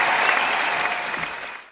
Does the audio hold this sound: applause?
yes